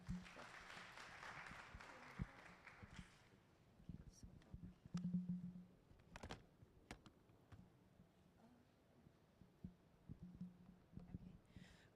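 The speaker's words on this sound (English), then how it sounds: "So let's give a round of applause." Audience applause at an orientation and workshop session, a burst of clapping in the first few seconds that fades into room noise, with a person's voice speaking over it.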